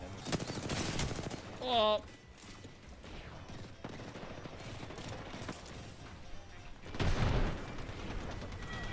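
Nemesis gun firing in Apex Legends comes as rapid bursts of automatic fire, loud at the start and again near the end, with a short exclamation in between.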